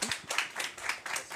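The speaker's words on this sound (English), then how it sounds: "Round of applause." A handful of people clap for guests on a retail AI panel stage, a short, sparse patter of individual hand claps in uneven rhythm, fairly quiet and close.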